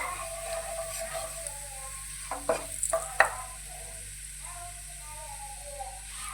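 Turmeric stirred into hot oil for okra curry, a low sizzle broken by a few scraping stirs of the spoon in the middle, with faint voices murmuring in the background.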